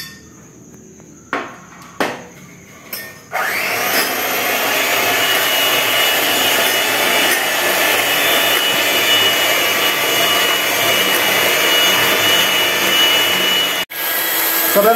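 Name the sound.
electric mixer beating cake batter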